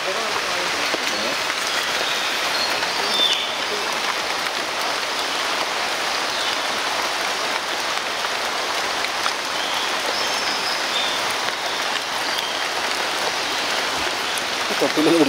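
Steady rain falls through the Sholayar forest between Athirappilly and Valparai, a continuous, even broadband hiss of drops on leaves that holds at the same level for the whole stretch, with no clear voice above it.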